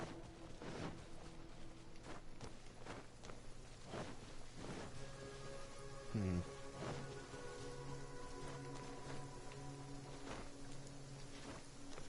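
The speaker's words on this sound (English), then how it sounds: "Why does it keep raining in the game?" Rain in the video game Genshin Impact, a soft steady patter heard faintly under sparse scattered tones and brief clicks.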